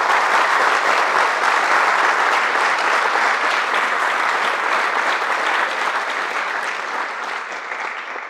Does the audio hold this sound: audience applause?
yes